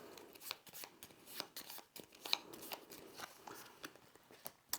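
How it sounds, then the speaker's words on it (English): A deck of cards from the savannah deck of the board game Nestlings being shuffled by hand, soft crisp riffling and tapping clicks in quick irregular bursts, quiet and close. "We'll shuffle them."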